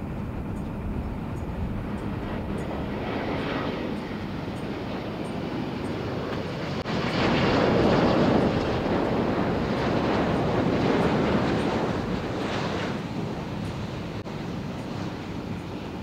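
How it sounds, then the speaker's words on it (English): Inside the hold of a cargo plane in flight carrying semiconductor fab equipment, a loud, steady broadband roar of engines and airflow continues throughout and swells slightly in the middle. "I'm inside a plane shipping fab equipment."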